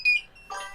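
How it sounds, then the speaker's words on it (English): A drone's buzzer gives a single short, high electronic beep, then briefly goes quiet before a softer, muffled sound follows. "So you hear some beeping in the background."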